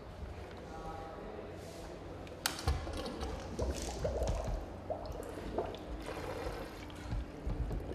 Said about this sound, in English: So as you can see, the bubbles are coming through here.